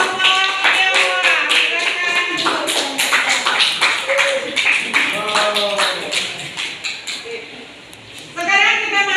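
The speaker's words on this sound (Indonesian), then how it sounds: "Oke, mari kita aplaus untuk kelompok Tionghoa." A classroom audience claps in a steady burst for a student group after its presentation, with voices calling out over the applause and a fresh round of clapping at the very end.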